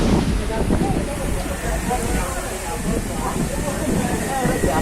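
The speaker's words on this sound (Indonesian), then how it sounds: "anginnya kencang sekali guys" Strong wind during a heavy rainstorm in Tangerang, a steady, loud roaring rush of air and rain that stays dense and unbroken throughout, with a voice talking over it.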